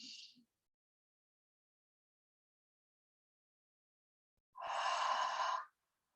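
A single long exhale during a hatha yoga session, a breathy sigh close up lasting about a second after a short faint breath and several seconds of silence.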